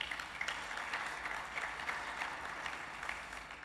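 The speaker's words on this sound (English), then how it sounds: "Give them a round of applause" An audience at the AGBF 2015 business forum applauds panel speakers on Africa's future factories, a steady, fairly faint round of many hands clapping throughout with slight swells.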